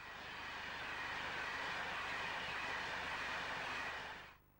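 Passenger train on the London to Manchester route, a steady loud rumble and rush of rolling stock passing close by, sustained for several seconds before cutting off abruptly, with no talk.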